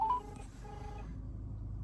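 A phone dials with two short electronic keypad tones in quick succession. The beeps are faint and quiet over a low background hum, which continues after them.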